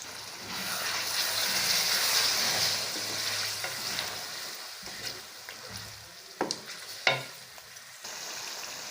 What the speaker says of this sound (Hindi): दही डालने के बाद 5 से 6 मिनट तक मैंने इसको भुना है।